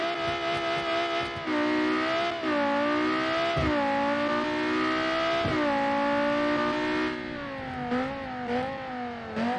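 A GT3 race car engine revs hard on track, its loud, steady roar climbing through the gears with brief dips at each shift, close and continuous.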